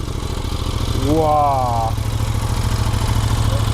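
A motorcycle with an aftermarket exhaust fires up and settles into a steady, loud, throbbing idle close by, with an excited voice exclaiming briefly over the engine.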